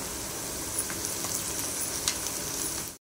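Ginger garlic paste and onion sauté in a pan with a steady, close sizzle and a few faint stirring clicks, then the sound cuts off abruptly at the end.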